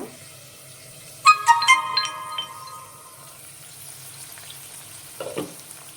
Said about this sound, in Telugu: ఇలా మూత పెట్టడం వల్ల ఫాస్ట్గా కూడా కాకరకాయ ఫ్రై అవుతుంది